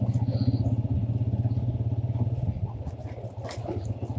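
Motorcycle ridden over a rough, rocky mountain road strewn with landslide stones near Chitral, its steady mid-pitched engine drone continuous and close with faint clattering over the rough surface.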